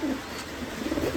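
Black Rajshahi pigeons in a cage, a short, soft low cooing, close and fairly faint.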